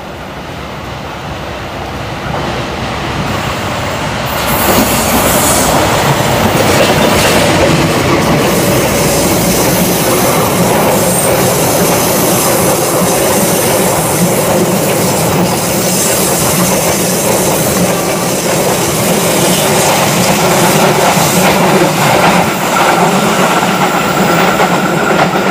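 The Fajar Utama Yogyakarta passenger train rumbling past at close range, loud and continuous, with rolling wheel clatter and roar building up and sustained for a long stretch.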